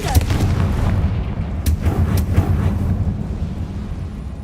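A Confringo fire spell explosion in Hogwarts Legacy, a loud booming blast with a rumbling tail and a few sharp cracks, fading out over several seconds.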